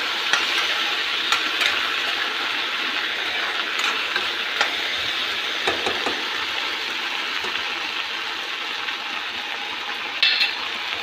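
Pieces of elephant apple (outenga) frying in a pan, a soft continuous sizzle with occasional stirring clicks and light utensil taps, close and alone without speech.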